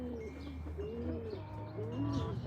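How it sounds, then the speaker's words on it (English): Wild doves coo outdoors in soft, low, repeated phrases, several birds overlapping at a steady distance over a constant faint background hum, with a few lighter chirps mixed in. "There is an abundance of doves flying from behind me."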